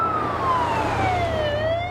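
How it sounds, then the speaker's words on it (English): An ambulance siren in a TV show wails with a single sweeping tone that glides steadily downward, loud and clear over a low background hum. "An ambulance."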